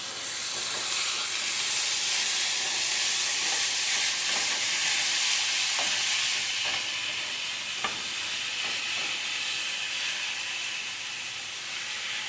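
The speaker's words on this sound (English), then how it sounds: "we're going to go ahead and put in our ground beef. And go ahead and stir that up." Ground beef for shepherd's pie browns in a pan, a steady broad sizzle and hiss running throughout with soft, scattered scraping and clinks of stirring close by.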